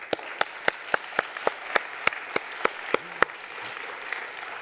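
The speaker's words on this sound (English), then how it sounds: "ask for a round of applause for our first lightning speakers." A few people in a conference audience applauding the lightning speakers, with about a dozen distinct, evenly spaced claps standing out over soft room noise before tapering off.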